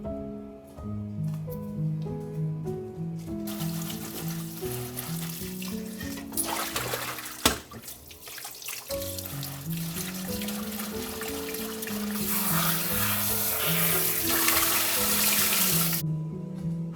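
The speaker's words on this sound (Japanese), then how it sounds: "ほうれん草を水洗いする。" Tap water runs over spinach being rinsed, a steady hiss and splash that grows fuller toward the end, with gentle music playing underneath.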